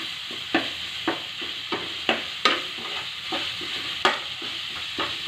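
Garlic and cumin fry for tomato rasam under a constant soft sizzle, punctuated by about eight sharp scrapes and taps of a spoon stirring at an uneven pace, close by.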